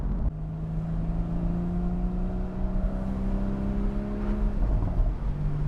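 A Porsche Boxster GTS 981 driving with its roof down on a lumpy road, its engine a steady, rising drone with a gear change near the end, mixed with wind and road noise.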